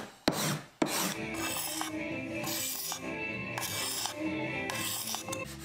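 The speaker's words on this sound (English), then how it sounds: "I do most of this work with the card scraper usually" A hand-held card scraper works across the wooden surface of an old piano stool, producing repeated rasping strokes close by, with a couple of sharp knocks near the start and no talking.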